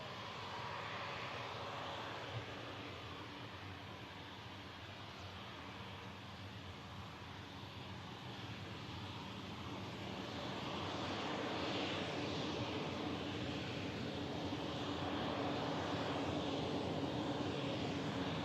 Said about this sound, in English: Tap Air Portugal. Slowly taxiing in.